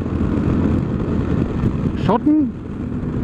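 A motorcycle rides along German roads toward a motovlog meetup, with a steady engine drone and wind rush throughout and someone speaking briefly near the end.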